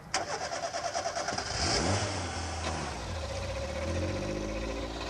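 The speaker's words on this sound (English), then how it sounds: "from out of nowhere, and travelling at least 80 miles an hour, came the Ferrari" A Ferrari engine roars into a fast, steady drone, starting with a rapid pulsing burst and then sustaining a loud, close high-speed run with a low rumble beneath.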